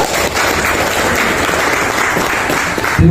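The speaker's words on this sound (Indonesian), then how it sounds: "Kita aplaus untuk eksekutif dan legislatif." A crowd applauds executive and legislative members at a formal gathering, a dense, steady clapping from many hands lasting the whole stretch, loud and close.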